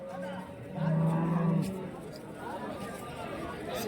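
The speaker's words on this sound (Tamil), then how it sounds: "இந்த மாடை வந்து பாத்தீங்கன்னா நல்லா இருக்கு" At a cattle market, a cow lets out one long, clear moo near the middle, set against a steady murmur of a crowd and someone talking close by.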